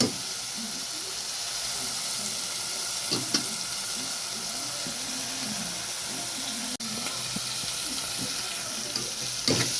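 Tomatoes sautéing in a hot pan for mutton mittah sahan with potato, a dense steady sizzle with scattered spoon clinks and stirring scrapes throughout.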